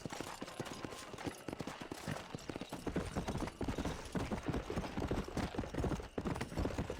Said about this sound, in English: Uf, este caballo va muy rápido.